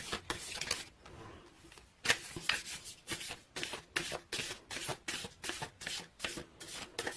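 A Whispers of Love oracle card deck is shuffled in quick, repeated riffles and slides, soft and close, a steady run of papery bursts without talk.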